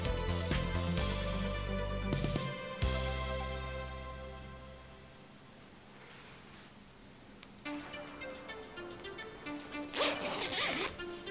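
Zipper handled during sewing of a Barbie movie cosplay outfit, with repeated rasping zip pulls and rubbing in close, moderately loud bursts and no talking.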